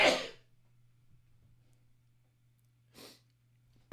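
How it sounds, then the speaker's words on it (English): A single person sneezes loudly up close, then there is near silence and a faint breathy exhale with a soft hum underneath. "I have to sneeze."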